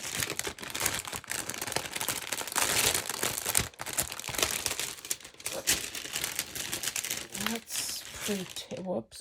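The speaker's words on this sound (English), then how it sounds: "Oh, sorry for the rustling." Close paper rustling and crinkling as a sheet is handled on a table among thrifted art supplies, continuous busy crackles and scrapes, with a voice speaking faintly alongside.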